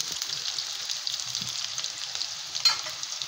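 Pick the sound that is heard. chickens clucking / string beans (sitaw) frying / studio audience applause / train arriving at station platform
string beans (sitaw) frying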